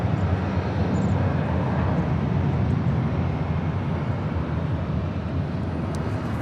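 A Delta Airlines jet departing LAX gives a steady, loud low roar of engines that holds evenly throughout with no break, close by and with no voices over it.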